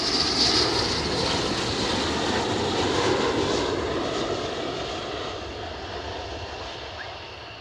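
A military jet at RAF Lakenheath, its air brake deployed, roars loudly and steadily overhead, a broad engine rumble and hiss that slowly fades toward the end.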